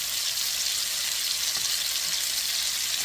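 Pork searing in a hot pan sizzles with a steady, close hiss and crackle that stays even throughout, with no talking.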